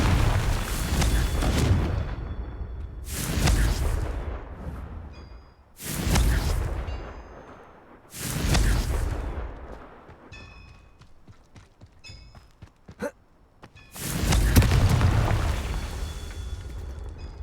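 Confringo blasting spell explosions in Hogwarts Legacy: five loud, booming blasts spaced a couple of seconds apart, each with a long rumbling decay, and a quieter stretch of small clinks and zaps between the fourth and fifth.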